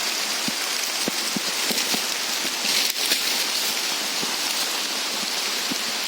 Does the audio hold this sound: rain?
yes